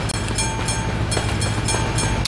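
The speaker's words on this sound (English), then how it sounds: "Passenger train this time." A loud video game passenger train in Euro Truck Simulator 2 rolls by close up, its carriages producing a continuous heavy rumble with rhythmic clickety-clack beats.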